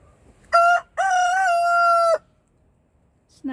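A rooster crows on a snowy farm, one short call then a long sustained cock-a-doodle-doo, loud and close, with quiet surroundings and the start of another sound at the very end.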